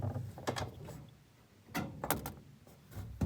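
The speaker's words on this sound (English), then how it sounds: "slide a flathead, aka slotted screwdriver, in along the left side of the bottom and shimmy the pump forward while prying the clip down" Flathead screwdriver prying down a clip to free the drain pump of an LG WT7300CW top-load washer, with hollow plastic knocks, scraping and shifting clunks coming in two close bursts separated by a brief lull.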